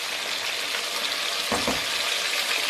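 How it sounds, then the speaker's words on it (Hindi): Chicken karahi sizzling steadily in a pan as crushed chilli, black pepper, garam masala, cumin, dried coriander and salt are mixed in, a constant close hiss with one brief stirring scrape midway. "इसको हम अच्छे से 1-2 मिनट के लिए मिक्स करेंगे।"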